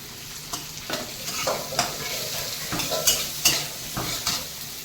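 Onions and green chillies fry and sizzle in a pan while a spoon stirs them in repeated scraping strokes, with a steady hiss beneath and sharper clinks of the spoon against the metal.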